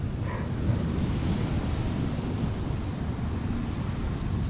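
Ocean surf washing onto a beach, a steady broad wash of waves mixed with wind buffeting the microphone, continuous and fairly loud throughout with no talking.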